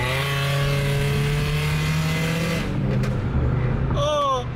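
A car engine roars loudly, holding a high steady rev before dropping off, then a brief rising rev burst follows, all close by.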